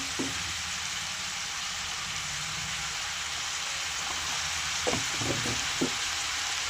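Mixed vegetables seasoned with salt and turmeric sizzle steadily in a pan, a constant close hiss with a few brief clunks of stirring near the end and no talking.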